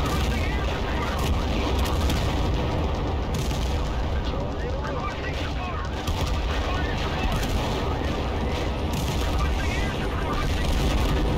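Artillery and explosions pound without letup in a video game siege battle, a dense, loud wall of booms and gunfire with continuous rumble, while a voice talks over the barrage.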